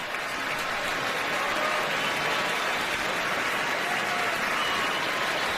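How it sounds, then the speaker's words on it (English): A large stadium crowd at an NFL preseason game in Green Bay cheers and applauds as an injured football player gets back on his feet, a broad, steady roar of clapping and voices filling the whole stretch. "That's a reaction from the crowd as he gets up on his feet."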